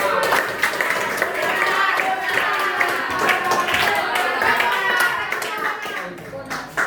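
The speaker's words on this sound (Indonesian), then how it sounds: "Tepuk tangan untuk Berita" Classroom applause for a student who answered correctly, a steady patter of many small hands clapping together for several seconds, with children's voices mixed in.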